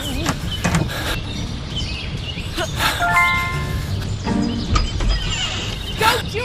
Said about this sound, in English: Don't you dare touch my doorbell again!